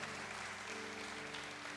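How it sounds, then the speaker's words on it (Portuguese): Short burst of crowd applause from a church congregation during a Sunday service, a steady patter of many hands clapping at once with no voice over it. "Dá um aplauso aí, você é uma bênção."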